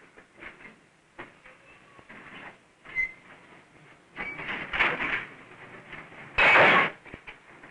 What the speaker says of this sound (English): A brakeman couples together the cars for our train.